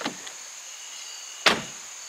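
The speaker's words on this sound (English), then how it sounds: "the sound of the door when it shuts" The door of a brand-new RAM 2500 Cummins pickup shuts with one solid, close thud that decays quickly, preceded by a softer click, in a quiet setting.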